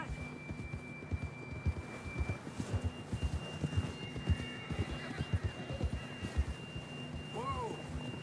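A horse in the video game Red Dead Redemption 2 walks with soft rhythmic hoof clops over a low hum, then gives a short whinny near the end, while a voice murmurs faintly underneath.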